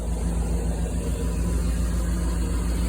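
A 1983 Dodge Ramcharger with a newly installed Hemi engine idles steadily, a low, even rumble running close and continuous with no voices over it.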